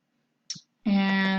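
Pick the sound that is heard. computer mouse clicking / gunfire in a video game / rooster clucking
computer mouse clicking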